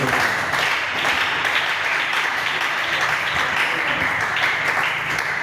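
Church congregation breaking into sustained applause, a thick wash of many hands clapping at a steady loud level throughout, with faint voices mixed in.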